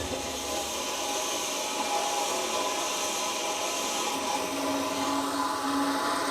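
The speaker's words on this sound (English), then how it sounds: "First up, we're going to saw this piece" A power saw grinds steadily through a metal piece being cut for a heavy machinery brake shoe welding fixture, a continuous, even cutting drone holding at constant loudness throughout with no voices.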